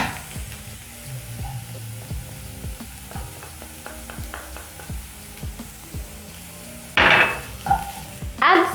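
Frying onions, carrots and garlic for a tilapia fish dish sizzle steadily in a pan at close range, with scattered stirring and utensil clicks and a louder burst of clattering near the end.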